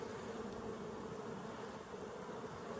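Honeybees hum steadily on a hive frame being inspected, a faint, close, continuous buzz with no voices.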